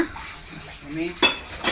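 Metal pots and dishes clatter and clank, with two sharp bangs near the end amid scraping sounds.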